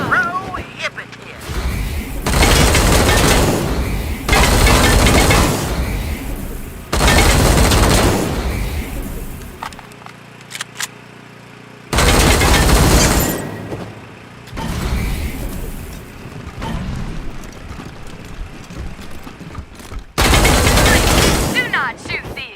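Loud bursts of automatic gunfire in the video game Wasteland 3, several sustained volleys separated by short pauses, with dialogue and game sounds in between.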